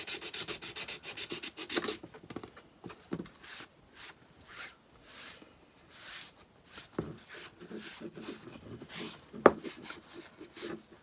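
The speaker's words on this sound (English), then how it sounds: "I put a little heavier, rougher sandpaper on that" Heavy, rough sandpaper rubbing over wood on a primitive country craft piece, a series of close, repeated scratchy strokes in short bursts with brief pauses between them.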